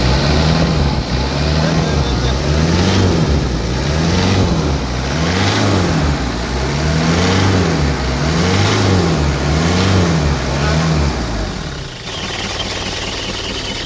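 A car engine revs repeatedly in even waves as the throttle is pumped on a workshop repair, loud and close, then settles to idle near the end.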